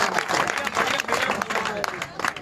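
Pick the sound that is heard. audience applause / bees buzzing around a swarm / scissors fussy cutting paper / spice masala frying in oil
audience applause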